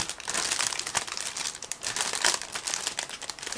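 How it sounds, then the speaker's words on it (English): A sealed plastic bag holding a Miniart 1/35 T-55 model kit is cut and opened, giving loud, close, continuous crinkling and rustling of plastic with no voices. "I need to cut through the sealed plastic bag"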